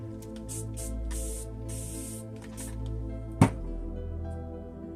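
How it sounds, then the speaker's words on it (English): A spray bottle spritzes a pumpkin craft piece in several quick, close bursts of hissing mist at an uneven rhythm, ending with a sharp tap, over a steady background hum. "Spritz this one."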